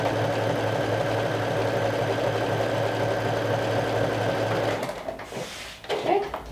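A sewing machine runs steadily, stitching along the bottom hem of a jacket with a fast, even mechanical whir for several seconds, then stops and a little handling noise follows.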